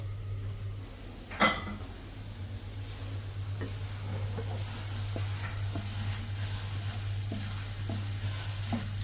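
Ridge gourd frying in a pan, a low steady sizzle running the whole time, with a sharp clatter early on and scattered soft stirring clicks afterward.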